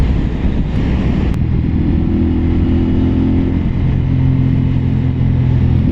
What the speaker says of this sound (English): the Yoshi exhaust, the Yoshimura AT2 slip-on exhaust sounds really good